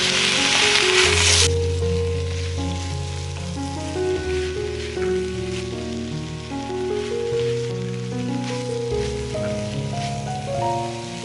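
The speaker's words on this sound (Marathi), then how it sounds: "गॅसची फ्लेम हाय करून आपल्याला या भाज्यांना 4 ते 5 मिनिट फ्राय करून घ्यायचंय। तेलामध्ये व्यवस्थित फ्राय झाल्या पाहिजे।" Vegetables for a bhogi bhaji fry in oil over a high gas flame, making a continuous crackling sizzle that sits under steady background music.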